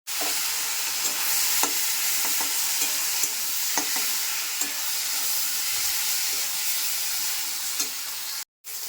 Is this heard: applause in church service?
no